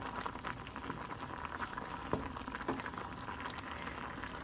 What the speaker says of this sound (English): Then boiling some pasta.